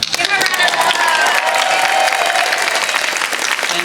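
Applause at a Comic Con panel for Mighty Morphin Power Rangers: a loud, dense burst of crowd clapping that continues steadily for several seconds, with a few cheers mixed in.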